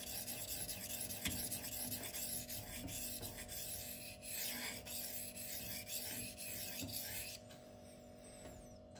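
An M390 steel blade of a Twosun TS264 folding knife scrapes across a sharpening stone in repeated back-and-forth rasping strokes, close and quiet, with no voices.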